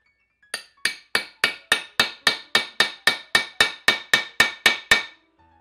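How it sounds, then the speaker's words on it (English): A hammer strikes a grommet setter on an anvil while fitting grommets into cosplay material, fifteen sharp metallic blows in an even, fast rhythm, loud and close. "I hammer it down really well"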